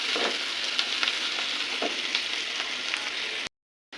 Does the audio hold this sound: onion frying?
yes